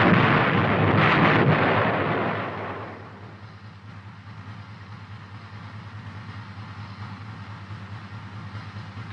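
An M551 Sheridan light tank's main gun fires a HEAT round at a bunker: one heavy, booming blast at the start that rolls and decays over a few seconds into a low, steady engine rumble.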